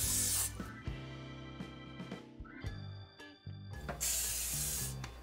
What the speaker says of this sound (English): And spray it with nonstick cooking spray.